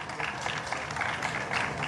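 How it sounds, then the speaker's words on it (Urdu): An audience at a tribute ceremony at the Arts Council in Karachi claps steadily in a hall, dense, continuous applause that stays even throughout. "تالیاں مہتاب علی کے لیے زوردار."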